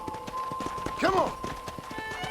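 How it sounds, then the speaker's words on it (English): Horse hooves clip-clop at a steady riding pace in the Red Dead Redemption video game, a continuous rhythmic patter with a brief whinny-like cry in the middle. "let's see if you can still ride a horse"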